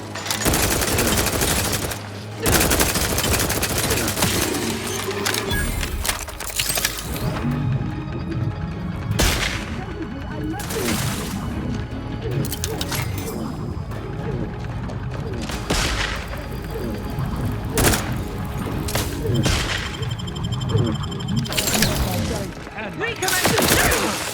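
Combat gunfire in The Outer Worlds 2, repeated bursts of shots and fusillades across the whole stretch, loud and close, with booms mixed in and voices talking over the fighting.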